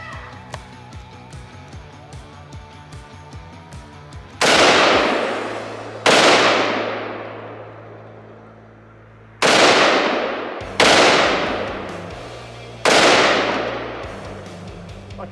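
Five loud, sharp 12-gauge shotgun blasts fired one at a time at a cast iron Peerless 2300 transmission outdoors, each followed by a long echoing decay, with quieter handling noise before the first shot.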